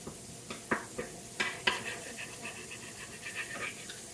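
Garlic and purple onions frying in oil as they're stirred in a pan for a venison, rice and gravy meal, with steady soft sizzle broken by several sharp scraping clicks of the utensil against the pan, no talking.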